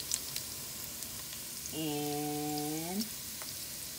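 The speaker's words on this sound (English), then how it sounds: "I am frying the okra in the oil" Okra fries in olive oil with a soft, steady crackling sizzle that runs the whole time, while a voice briefly speaks over it midway.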